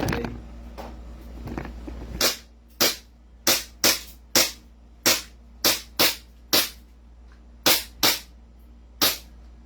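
A pistol fired at a gun shop range, around a dozen sharp, fairly loud reports in an uneven rhythm, some in quick pairs, after a brief stretch of background noise.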